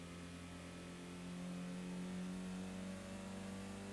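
A 1993 Honda Civic SiR engine in Gran Turismo revs steadily, its tone climbing and hardening midway as VTEC engages, a sustained, buzzy in-game drone with no voices over it.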